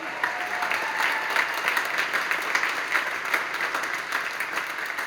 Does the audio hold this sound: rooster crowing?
no